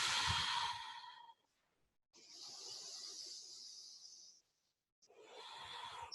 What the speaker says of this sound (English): Breathing down to the belly.